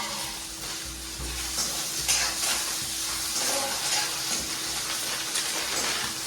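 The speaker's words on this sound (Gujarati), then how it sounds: "મરચાં ડુંગળી નાખી દેવાની" Chillies and onions sizzle in hot oil for Maggi noodles, a steady hiss and crackle with occasional stirring scrapes, close and moderate in volume.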